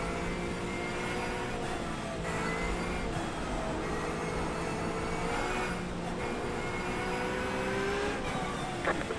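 Race cars running under caution behind a pace car in a racing video game, steady engine drone with shifting harmonic whine and occasional brief revs, continuous and fairly even in level.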